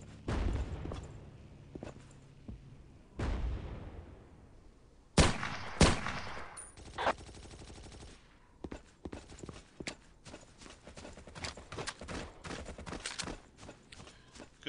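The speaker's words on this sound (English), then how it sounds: "Good little use of teamwork there as I was doing cover fire for that friendly machine gunner." Machine gun cover fire in Battlefield 1942, a World War II shooter: sharp bursts and rapid repeated shots, some loud and close, others thinner and farther off, scattered across the battle with short gaps between volleys.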